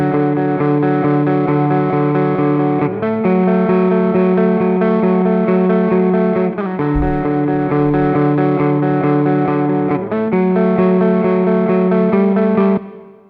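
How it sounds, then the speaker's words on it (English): Distorted electric guitar chords through a large-space reverb in the Clairvoyant Amp Suite, ringing out with a long, spacious wash, changing every few seconds and trailing off at the end. "pretty small reverb pushed up to a pretty large space that really rings out"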